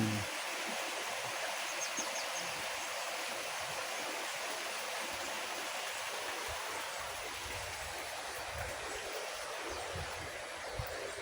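Water pouring from an outdoor shower at a resort in Iriga City, a steady, soft hiss of falling spray that runs evenly and continuously at low level.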